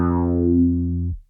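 One sustained bass note through wah and distortion pedals combined, a thick buzzing tone whose upper harmonics sweep and fade before it cuts off abruptly, loud and close.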